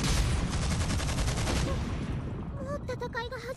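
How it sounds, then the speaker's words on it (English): Dense rapid gunfire and booming blasts from the video game Neptunia Re;Birth2 fill the clip, loud and constant, giving way near the end to electronic game effects. "Guns and explosions."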